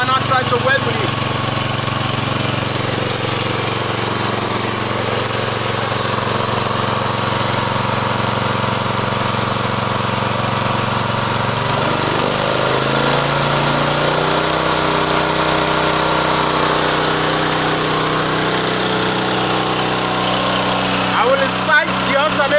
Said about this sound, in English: The machine is now running.